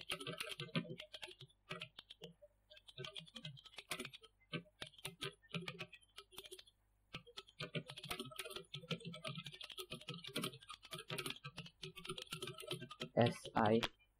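Rapid, irregular keystrokes on a computer keyboard while code is typed, close and clicky, with someone speaking quietly at intervals over the typing.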